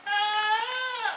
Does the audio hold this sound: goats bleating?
yes